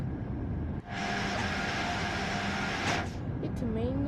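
Inside the cab of an Acela Express in Train Sim World, a steady rumbling drone of the moving train fills the space with continuous shaking, joined by a faint rising tone near the end.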